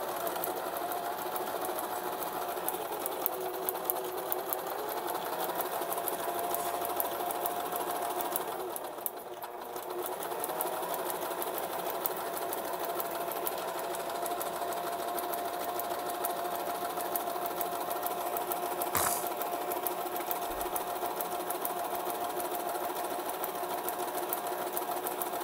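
A Singer Tradition sewing machine stitches with a steady, rapid mechanical whir and ticking that runs nearly throughout, pausing briefly midway, with a sharp click near the end, close and moderately loud.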